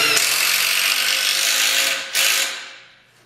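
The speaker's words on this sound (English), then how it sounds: "I'm just going to take 2 screws and drive those down through those holes." A power drill drives screws into a wooden Adirondack rocking chair in two loud whirring bursts, a long run followed by a short one that winds down as the screw seats.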